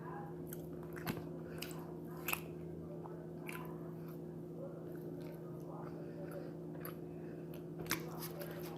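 Someone eats ribs close to the microphone during a mukbang, with faint wet chewing and occasional sharper bite clicks over a steady low electrical hum.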